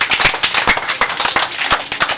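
A crowd claps steadily, a dense patter of hands with a few sharper individual claps standing out, loud and close.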